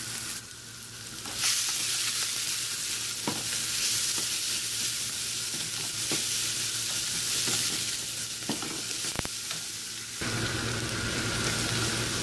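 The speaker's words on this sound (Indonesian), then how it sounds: "goreng bawang sama bawang putih dicepat kalikan biar cepat" Onion and garlic fry in a pan for a simple potato stir-fry, giving a loud, close, continuous sizzle with stirring scrapes throughout.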